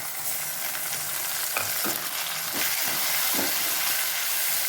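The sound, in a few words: ginger and garlic frying in oil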